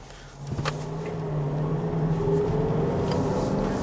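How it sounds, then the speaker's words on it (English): A 2015 Range Rover Autobiography's 4.4-litre SDV8 diesel engine hums with a low, smooth drone that swells slightly as it pulls, a steady near engine note with faint clicks early on and no talking. "I love the noise the I engine. really do like it. The engine sounds so expensive."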